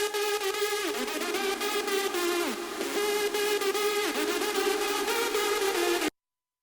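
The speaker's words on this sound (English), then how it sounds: "Where the reverb is so long that it kind of mashes up with the sound of the lead itself" A square-wave synth lead washed in very long reverb plays a sustained melodic line with gliding pitch bends. The tail blurs into the notes, runs steadily for about six seconds, then cuts off abruptly.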